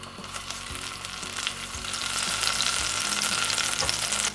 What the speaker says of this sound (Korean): 그리고 버터 한 큰술 정도를 녹여주세요.